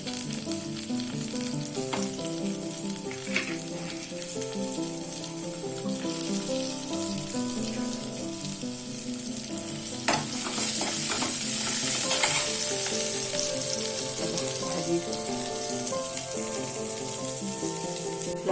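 Vegetables sizzle steadily in a home kitchen pan over roasted onion, with occasional scrapes and clinks as they are stirred and a constant tonal hum underneath.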